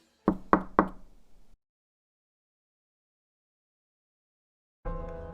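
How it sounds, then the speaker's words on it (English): Three quick, sharp knocks land on a back door in close succession, then the sound falls to silence before a steady noise begins near the end. "The back door rattled, knock, knock, knock, 3 times."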